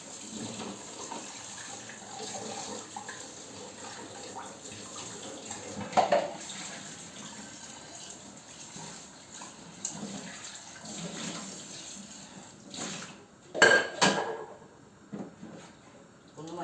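Dishes washed by hand under running water at a kitchen sink, a quiet continuous stream with occasional clinks and knocks of crockery, louder bursts near the end, no talk.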